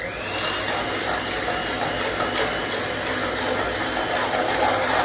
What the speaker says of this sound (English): we're going to now whisk this up